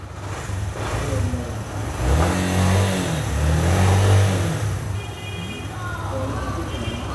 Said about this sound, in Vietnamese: Để mình nổ máy cho các bạn xem nghe luôn nha.